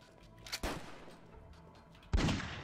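Lee-Enfield .303 rifle shots in the zombie game Fort Zombie, two sharp, loud cracks about a second and a half apart, each fading into a reverberating tail.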